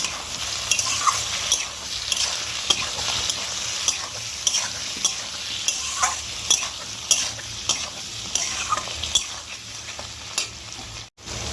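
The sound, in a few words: stirring turmeric and Kashmiri chili powder in a pan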